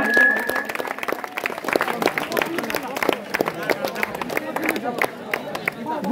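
An audience applauds at a Ganesh puja dance event, with steady, dense clapping and crowd noise filling the whole stretch.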